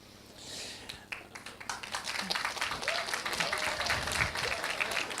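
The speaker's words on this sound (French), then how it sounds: "si vous applaudissez tout le temps" Audience at a Global Game Jam launch event in Nantes bursting into applause, scattered claps building within a second or two into dense, steady clapping with some crowd noise.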